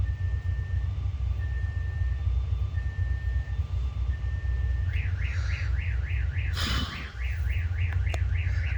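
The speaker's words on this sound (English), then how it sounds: "That's why you're hearing all the alarm noise." A car alarm sounds at a distance, first in repeated steady beeps, then a rapid warbling siren, over a constant low rumble of engine noise.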